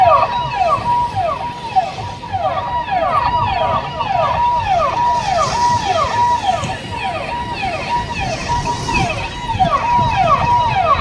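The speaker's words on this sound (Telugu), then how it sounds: "సైరన్ మోగుతుంది." A bus siren wails, sweeping up and down repeatedly in a steady cycle near a ticket counter, loud and continuous, over background traffic noise.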